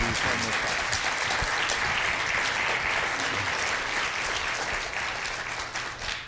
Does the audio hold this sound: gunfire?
no